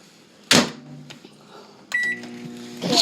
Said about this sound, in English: That I'm heating up in the microwave.